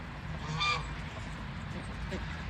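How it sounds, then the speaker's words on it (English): A goose grazing in a backyard with a pond gives a single nasal honk over steady outdoor background noise, with a fainter call near the end. "the geese are in the backyard too, eating the grass"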